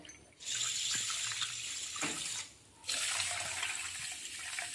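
Water pours from a tap into a bowl for making sugar syrup, a close, steady splashing rush that stops briefly and then resumes.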